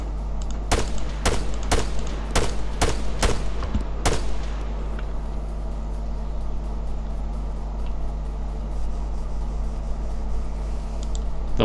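Gunfire in the military shooter Arma 3: a quick burst of about eight sharp, loud shots in an uneven rhythm, then quiet with a steady low hum underneath.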